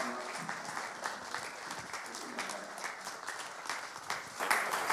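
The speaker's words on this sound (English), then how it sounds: "just give him a round word of applause" A men's conference congregation claps to welcome a bishop, fairly faint but steady applause with a slight rise near the end.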